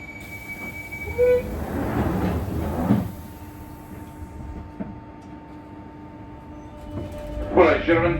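A London Underground Jubilee line train runs toward Wembley Park, a low rumble with rattles and knocks of the carriage, rising into screeching metallic noise near the end, while a driver's announcement plays over it.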